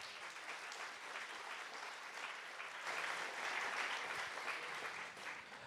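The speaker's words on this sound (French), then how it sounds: "Qui va applaudir le Seigneur ?" A church congregation applauds together in a steady wash of clapping that swells a little in the middle before easing, heard at a moderate distance without talk.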